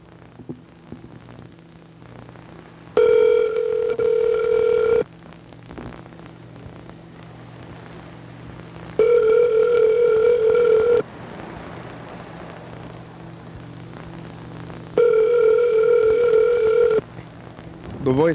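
Three loud, steady ringback tones, each about two seconds long with silent gaps between, come through a phone line over a low hum and static, and the call is then answered by voicemail.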